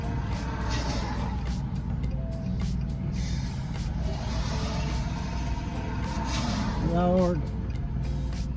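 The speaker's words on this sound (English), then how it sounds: "Goodness, traffic is awful." Road traffic on a mild day of melting snow rumbles steadily, with passing trucks and cars, a low engine drone and a short rising horn-like tone near the end, while a person talks over it.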